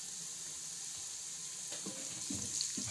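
Chopped garlic and ginger browning with onions in a pan for mash ki dal, a steady soft sizzle with a few brief scraping stirs near the end, no talking.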